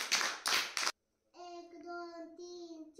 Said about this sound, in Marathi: टाळ्या वाजवा करणसाठी